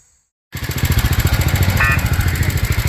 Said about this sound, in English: as you can see, got it running with the carburetor